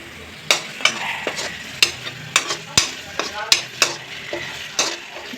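Paneer masala, made without garlic or onion, stirred in oil in a pan, with repeated sharp scraping strokes of the spoon over a soft continuous sizzle and no talking.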